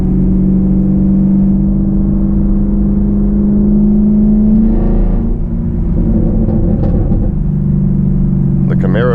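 A Chevrolet Camaro engine runs at a car meet with a steady, close, droning rumble that swells briefly in a rev midway before settling back to a lower hum.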